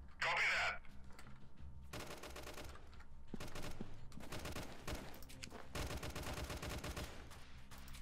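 Bursts of automatic gunfire rattle through a Freeman: Guerrilla Warfare firefight, dense repeated volleys running almost continuously, loud and close, with a player's voice speaking over the shooting.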